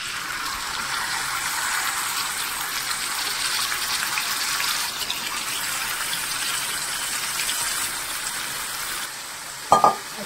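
Whole prawns sizzle steadily in a hot pan with hing for a Maharashtrian green masala curry, a continuous close, bright frying hiss that holds level before a couple of sharp clinks near the end.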